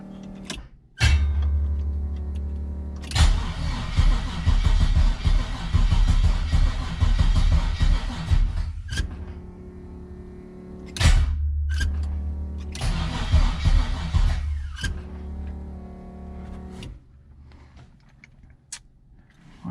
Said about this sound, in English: Y'all heard it cranking.